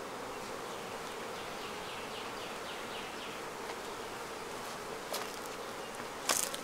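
Honey bees buzz close around a beekeeper's veil while a new queen goes into a Flowhive, a continuous even drone with a couple of brief sharp knocks near the end.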